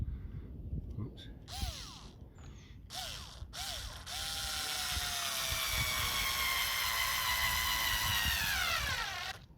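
A cordless screwdriver drives screws into garden bed edging: short whirring bursts rise in pitch, then a longer steady drive that winds down at the end, heard close by.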